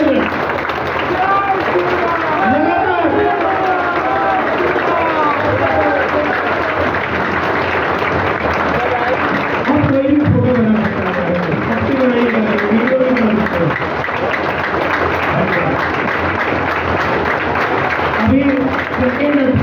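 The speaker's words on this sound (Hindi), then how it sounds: "2 मिनट लगातार बिना रुके 120 सेकेंड कृष्ण मुरारी जी, उनकी टीम और विधायक जी सभी के लिए ताली दो" A large crowd at a district political meeting in Lakhisarai claps continuously in a steady, dense roar, with voices and chanting rising over the applause throughout.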